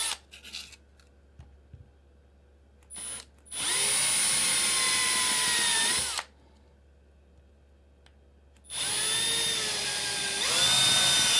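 A drill runs in two loud sustained bursts with a high whine, each spinning up and winding down, separated by quiet gaps with faint background noise.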